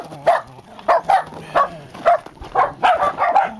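Dogs bark excitedly outdoors on ice after an ice storm, loud and close, firing off a rapid series of roughly eight sharp, yipping barks in an uneven rhythm.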